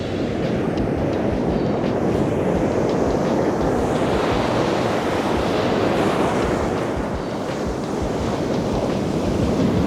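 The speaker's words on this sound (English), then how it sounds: "I'm standing down here and I am eye level with those waves" Ocean surf pounds a beach on North Carolina's Outer Banks, heard at eye level with the breakers during surf fishing; a loud, continuous roar of crashing waves and rushing water fills the whole stretch with no pauses.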